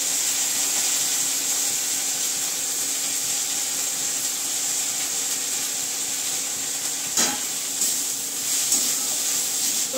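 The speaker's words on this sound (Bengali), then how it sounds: "রসুন আর কালো জিরে ফোড়ন দিলাম" Garlic and black cumin tempering sizzling in hot oil while fenugreek greens are being cooked at home, a steady close hiss throughout with a couple of brief stirring clinks near the end.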